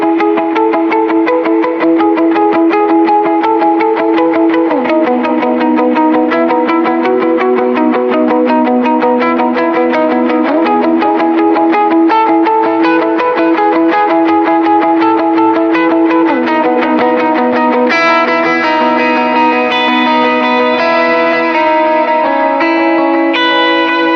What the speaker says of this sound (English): here is the delay with very little reverb.